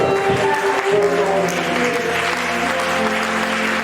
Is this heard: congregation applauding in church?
yes